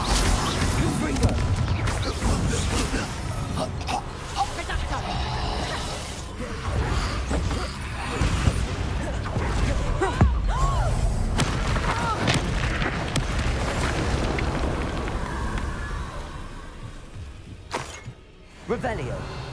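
Bombarda and Confringo spells blast in Hogwarts Legacy combat, a dense run of booms, shattering crashes and magical impacts piled close together under near-constant in-game voices, with a brief dip near the end.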